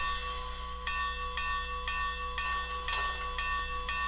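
A model steam locomotive bell from a sound decoder, with its ring rate set faster, clangs at a steady, fairly quick rhythm, about eight strikes, each ring overlapping the last with a bright metallic tone.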